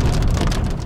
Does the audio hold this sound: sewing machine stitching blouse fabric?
no